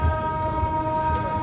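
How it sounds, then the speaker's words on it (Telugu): Inside the Narsapur Express (17256) as it pulls out of Lingampally railway station: a steady low rumble of the moving train with sustained tonal hums from the carriage, heard up close. "మన ట్రైన్ అయితే లింగంపల్లి నుంచి అయితే స్టార్ట్ అయిపోయింది"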